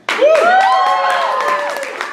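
Audience at an improvised Shakespeare comedy show applauding and cheering, a burst of clapping with whoops and voiced shouts rising sharply and sustaining for a couple of seconds.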